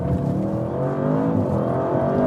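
A 2024 Audi RS7 Performance with a V8 engine accelerates hard, its deep engine note rising steadily and loud at close range as revs climb, with no talking.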